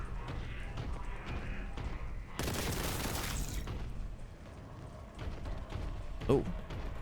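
Bolter fire and explosive impacts ring out in Warhammer 40,000: Boltgun, a dense stretch of shots and booms with a heavy blast in the middle, while a voice talks over the combat.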